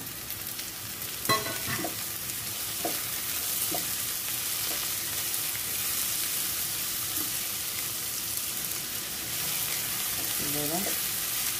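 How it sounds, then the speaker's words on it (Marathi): Onion and tomato sauté in a pan for banana flower bhaji, giving a continuous close sizzle with scattered spoon scrapes and clinks against the pan, plus a short run of rapid clatter near the end, with no talking. "आपल्याला कांदा नरम होईपर्यंत परतवायचा आहे"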